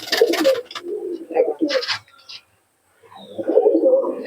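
Madras and Malbai pigeons coo in soft, low rolling phrases, several bursts close by with a short quiet gap midway.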